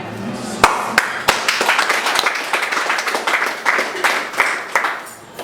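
Guests at a civil wedding clap in scattered, uneven bursts, with sharp individual hand claps standing out over a moderate crowd applause that rises and falls throughout.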